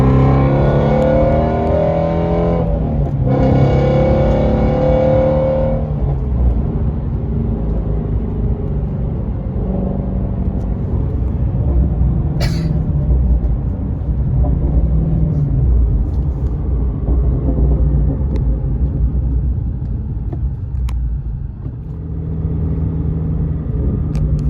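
A loud car engine with open exhaust in sport mode revs and accelerates, its throaty roar climbing in pitch, then settling into a sustained rumble as it gathers speed.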